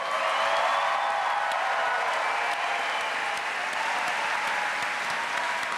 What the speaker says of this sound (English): How about a Muskie round of applause for our...